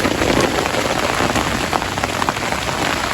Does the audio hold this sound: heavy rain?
yes